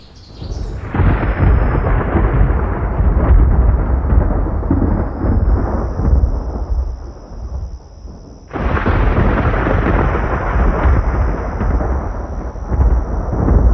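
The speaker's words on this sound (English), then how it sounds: "By nightfall, rain has yet to reach the south, but the lightning already has." Heavy thunderstorm at night, with loud rolling thunder rumbling continuously, then a brief lull before another powerful crash and long roar; no voices.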